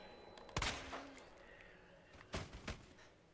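Gunshots in Resident Evil Remake, one sharp loud report followed by a lingering echo, then after a pause two more quick shots close together, all against quiet background ambience.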